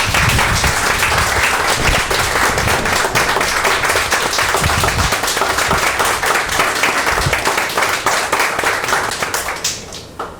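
A room at a town Select Board meeting breaks into loud, sustained clapping from a standing crowd honoring a dedication, continuing evenly for several seconds before tapering off at the close.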